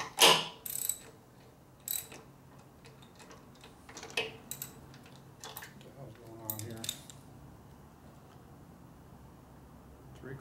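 Ratchet wrench clicking in short bursts while tightening the handlebar risers on a 1958 Harley-Davidson 74ci panhead FL during a top-end rebuild, with metallic ticks and scattered workshop clatter, moderately close.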